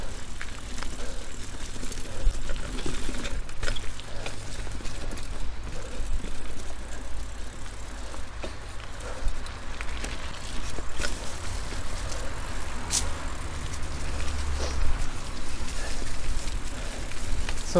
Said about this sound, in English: Sorry for the noise. We are very near a road, as you can see